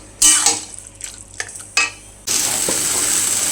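Taro greens cooked with prawns being stirred in a pan, a few scraping and clinking strokes of a utensil against the pan, then a loud steady sizzle of frying rising suddenly and holding.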